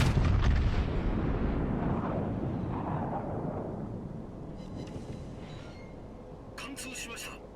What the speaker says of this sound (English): the Roma's just fired